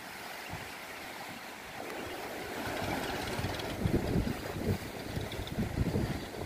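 A fishing boat pulling up close to the sandy shore at Ho Tram beach in Vietnam, with steady wind noise and gentle surf washing in, growing slightly louder over the stretch, with no one talking.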